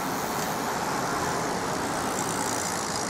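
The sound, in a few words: road traffic, many cars driving past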